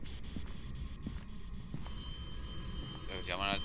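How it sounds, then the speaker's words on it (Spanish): A telephone rings inside the horror video game Phasmophobia, a shrill electronic trill rising near the end over dim game ambience, with players' voices nearby. "Llaman al teléfono."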